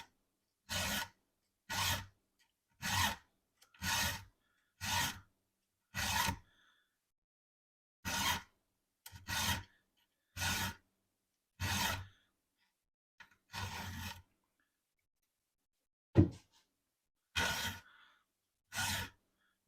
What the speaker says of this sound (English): I'm certainly filing at the angle that I'm supposed to according to the hash mark on there.